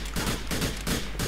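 Sawed-off double-barrel shotgun in Grand Theft Auto IV, several loud booming blasts in quick succession over about a second, each with a short noisy tail.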